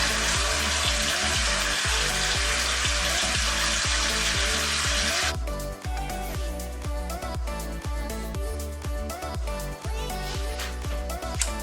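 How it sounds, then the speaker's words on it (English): Water splashes and runs as shea butter is washed off a face with a wet washcloth, a steady broadband wash that loudens in the first half and continues under background music. "So I'm gonna wash this off with a washcloth."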